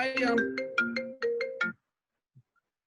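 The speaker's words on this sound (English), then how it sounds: "My phone does that all the time, and it only rings when I'm on the air." Mobile phone ringtone sounding a bright, bouncy melodic tune of several quick notes, loud and close, then stopping into silence.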